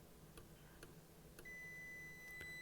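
A multimeter sounds its continuity beep while probing the coax of a GE Healthcare MRI brain coil under repair: a single steady, thin electronic tone that starts partway through and holds, faint, with a few soft ticks before and around it.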